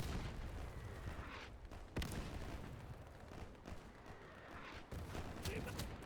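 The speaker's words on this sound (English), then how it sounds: "There is a lot of enemy fire" Enemy gunfire rattles through a WWII battle in the video game Easy Red 2, a dense fusillade of distant and nearer shots with occasional sharper cracks and booms, with speech present in the mix.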